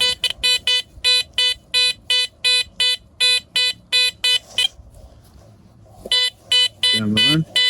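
A Garrett Vortex VX9 metal detector sounding over a 5 pence coin gives loud, rapid, evenly pulsed high beeps, a short quiet gap, then more beeps as a person starts talking.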